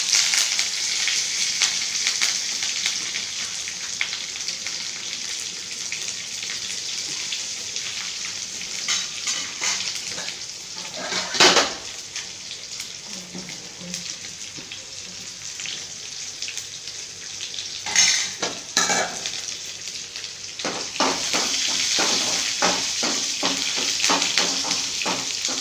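Mustard seeds, urad dal, onion and curry leaves fry in about 1.5 spoons of oil for a plantain stir-fry, giving a steady close sizzle that runs throughout, with stirring scrapes and a brief burst of running tap water.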